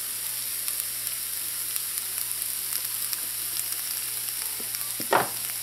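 Vegetables and onions seasoned with adobo and paprika sauté quietly in a pan, a soft continuous sizzle with faint scraping, and one brief louder stir near the end.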